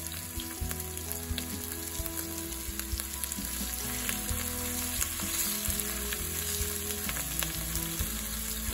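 Meat browns in a small Dutch oven, one batch at a time, with a loud, steady sizzle and crackle that runs without a break from start to finish.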